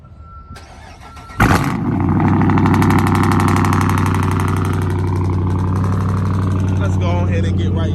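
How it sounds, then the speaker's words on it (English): Chrysler 300C Hemi V8 cranking and firing up on a cold start, a brief starter whir followed by a loud, steady, throaty idle close by. "let me get right into the video and get y'all a cold start to start it off."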